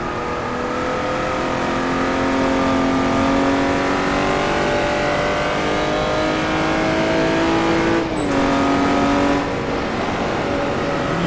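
A Jaguar D-type race car taking a corner at Goodwood, its engine note steady and sustained while braking and feeding the throttle gently, pitch sliding down through a gearchange near the end, close and loud with no talk.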